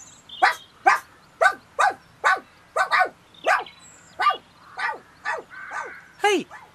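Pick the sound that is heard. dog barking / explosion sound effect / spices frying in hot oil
dog barking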